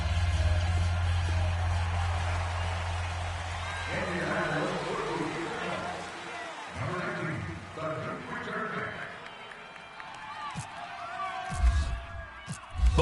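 Stadium crowd roaring and cheering in a Madden 18 NFL game between the Indianapolis Colts and Oakland Raiders, a steady loud crowd bed with swells and whoops running under continuous commentary.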